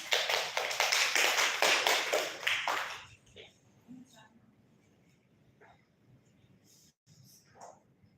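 An audience at a classroom speech session gives a brisk round of applause, dense and fairly close for about three seconds, before it drops to quiet room noise with a few soft voices.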